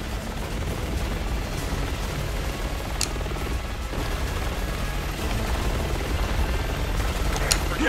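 A helicopter's steady thrumming drone in Resident Evil 6 fills a dense battle soundscape, with occasional gunfire cracks and booms layered over the continuous rumble.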